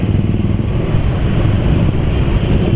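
A motorcycle engine running on Unirace 4T oil idles noisily, a dense, continuous mechanical clatter and ticking under a steady loud drone.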